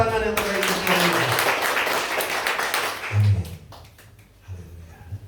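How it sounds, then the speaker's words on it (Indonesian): A church congregation claps and cheers loudly for several seconds, the applause fading out as a voice speaks over it. "Berikan tepuk tangan yang terbaik untuk Tuhan"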